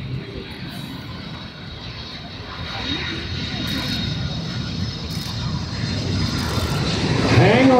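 A C-5M Super Galaxy military transport jet comes in to land at an airshow, a broad continuous engine roar swelling steadily louder as it nears, with crowd and announcer voices faintly mixed beneath.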